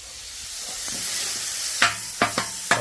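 Hamburger meat with lime juice on a Blackstone griddle gives a soft steady hiss, followed by a few brief, louder sizzling bursts near the end.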